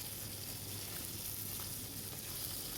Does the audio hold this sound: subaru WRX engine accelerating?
no